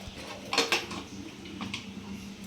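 A metal lid is set onto a pressure cooker, producing a couple of close, light clanks followed by faint clinks of cookware in a quiet kitchen.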